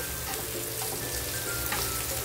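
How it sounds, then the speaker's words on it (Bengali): Garlic and cumin seeds frying in oil over a medium gas flame, a steady dense crackle and sizzle that keeps an even level throughout, close by with no talking. "ভাজা ভাজা গন্ধটা আসা চাই, ততটা পর্যন্ত ভাজতে হবে রসুনটাকে"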